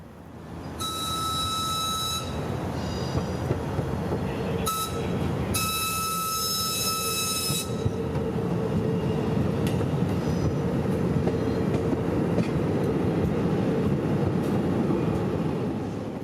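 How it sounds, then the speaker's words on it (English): An inbound Amtrak passenger train rumbles past close by in Tampa, Florida, its loud horn blaring in two long blasts before the steady roar of wheels on track continues. "the gates are going down for inbound Amtrak train PO 92"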